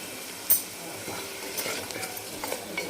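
Dry spices, red chilli powder, garam masala, coriander-cumin powder and turmeric, frying in hot oil for a masala brinjal dish, a soft continuous sizzle with light stirring scrapes and a sharp utensil clink near the start.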